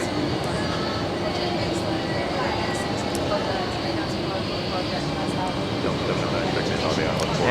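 An El Al airliner slows down after landing at JFK, a steady distant roar of engines and rushing air, with voices talking over it throughout.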